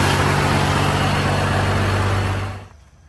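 A 1978 Chevy K20 truck engine runs with a loud, steady roar and a low rumble, then cuts off abruptly near the end, leaving quiet.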